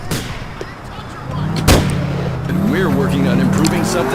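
Gunfire in the video game GTA IV: a sharp loud shot cracks once near the middle, set among game vehicle engine noise and a rising siren-like wail.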